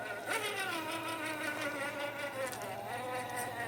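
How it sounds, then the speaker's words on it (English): A close, continuous whine from mosquitoes in a forest on a still morning shows wavering, overlapping tones that slide up and down in pitch throughout. "See how bad the mosquitoes are down here this morning."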